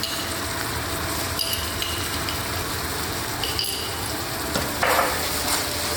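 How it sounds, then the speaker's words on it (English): Pad Thai noodles with tamarind sauce being stirred in a hot pan, a constant close sizzle with occasional scraping clinks of the utensil and a brief louder hiss near the end. "You keep stirring it."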